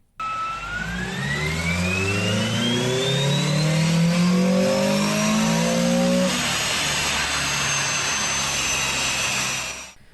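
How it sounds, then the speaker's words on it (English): Honda Prelude engine revving hard under load, a loud rising howl that climbs steadily in pitch for about six seconds, then holds at a steady high roar until cutting off at the end; no talk. "The engine is still running on 93 octane with coolant temperatures around 180 degrees and an intake air temperature of near 110"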